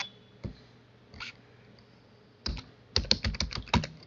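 Typing text on a computer keyboard, a few isolated key taps followed by a quick close burst of clicks over a quiet background hum.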